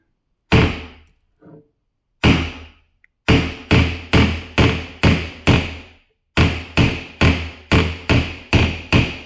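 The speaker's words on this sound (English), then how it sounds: "got myself a hammer here" Loud, sharp hammer blows ring out one after another while removing seats from a 41-year-old Porsche 944, first a few scattered strikes, then quick steady runs separated by brief pauses.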